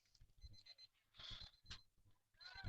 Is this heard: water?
no